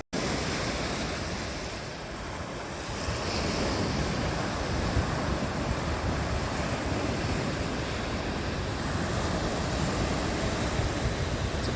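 Waves wash continuously onto a Lake Michigan shore in early spring, a loud, broad rushing surf with wind buffeting the microphone, close and unbroken, with no voices.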